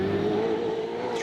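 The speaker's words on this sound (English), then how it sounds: "Very unique sound out of that Toyota with a V6." A Toyota V6 3.5-litre turbocharged Pro race car at the Finke Desert Race rings out with a strong, steady engine note that holds near and loud through the moment.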